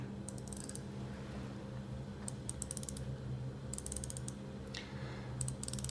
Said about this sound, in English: the bezel feels like a 60 clicks bezel, but it's actually 120 clicks